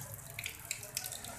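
A tap runs gently, barely opened, while raw meat is washed, giving a soft, continuous splashing trickle with a few brighter spatters, quiet and without speech.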